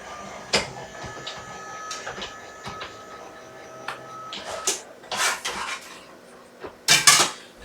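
An electric die cutting machine for card making runs at a workbench, giving irregular mechanical clatter and clicks with sharp bursts near the end, fairly close and without talk.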